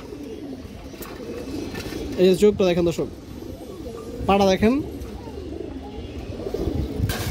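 Pure Hurricane-breed pigeons, kept as high flyers, coo with a low, soft, rolling murmur that runs throughout, partly beneath someone speaking Bengali nearby.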